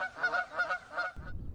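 Geese honking near Cedar Lake, three loud nasal calls in quick rhythm close by, then the calls stop and a low rumble of wind or background noise takes over.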